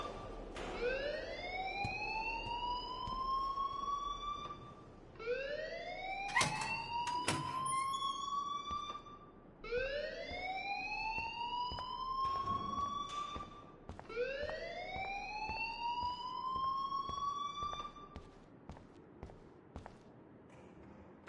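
An alarm blares in the video game Life is Strange as four long rising siren-like wails, each about four seconds, sweep upward with strong harmonics, loud and steady with brief gaps between them.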